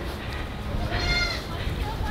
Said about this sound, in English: But compared, like this little goat,